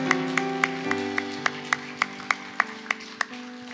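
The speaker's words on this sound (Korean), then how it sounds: "우리 가장 큰 박수로 영광 올리겠습니다" Congregation clapping at a Korean Sunday church worship service, a steady run of about a dozen sharp, evenly spaced claps over sustained organ or keyboard chords.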